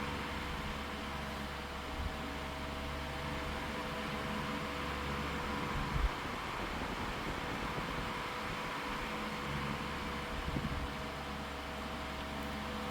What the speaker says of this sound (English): It's making this very loud humming noise to the motor.